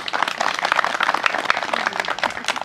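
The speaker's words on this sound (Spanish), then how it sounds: "Fuerte el aplauso para el señor David." An audience applauds David and Esther at a gathering, a dense burst of many hands clapping steadily for a few seconds, fairly close and lively.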